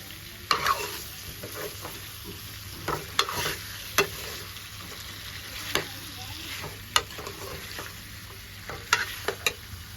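Potatoes are stirred into chutney in a pan for Gujarati bhungala bateta, with a soft steady sizzle under repeated sharp scrapes and clinks of the spoon against the pan, fairly close and quiet, no talk.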